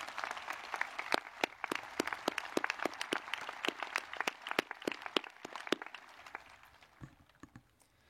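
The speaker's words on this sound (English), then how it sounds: "One last round of applause for the senior members of Corral as they have a seat." A school concert audience gives a round of applause for senior choir members taking their seats, dense steady clapping from a sizable crowd that holds for several seconds and then tapers off into a few scattered claps.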